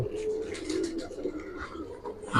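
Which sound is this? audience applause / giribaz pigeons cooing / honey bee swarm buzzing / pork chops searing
giribaz pigeons cooing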